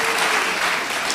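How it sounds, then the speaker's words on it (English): An audience applauds at the closing gala and awards of an art prize, a dense continuous wash of clapping, loud and full with no distinct individual claps, brief. "Round of applause."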